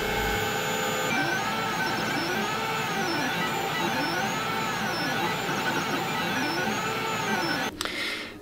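Snapmaker 2.0 3D printer printing an AA to C battery converter, a steady mechanical hum with looping, rising and falling motor whines from the moving head, ending in a short clatter, no talking.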